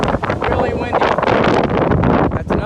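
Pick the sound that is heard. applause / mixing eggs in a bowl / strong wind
strong wind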